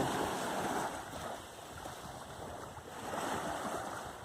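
Sea waves at Khao Tao beach in Hua Hin wash in a soft, continuous roar, faint and distant, with light wind rumble and no voices.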